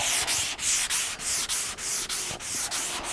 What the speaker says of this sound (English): I'm just letting the fucking sandpaper do its job